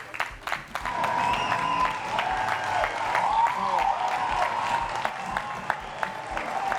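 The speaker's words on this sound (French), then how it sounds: "Les gars, applaudissez s'il vous plaît." A studio audience at a children's variety show applauds, a sustained burst of clapping with a musical tone and some voices mixed in throughout.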